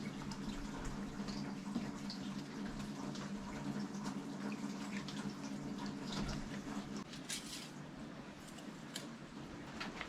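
Engine oil is poured into a Volkswagen-group 1.0 TSI engine during an oil change, a steady faint glugging trickle of liquid running continuously for several seconds over a low background hum.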